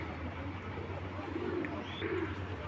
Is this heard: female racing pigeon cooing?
yes